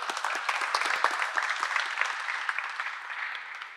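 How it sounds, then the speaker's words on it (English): An audience applauds after a talk by a speaker at an event, a steady dense clapping that holds at moderate loudness for a few seconds and slowly tapers, with no talking. "can we have a very big round of applause for ma'am?"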